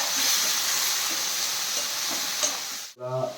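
Bitter gourd, potato and ginger frying in a pan, giving a steady close hiss and sizzle with a few light stirring clinks, cut off by a sudden drop near the end, no voices.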